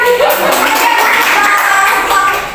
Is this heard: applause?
yes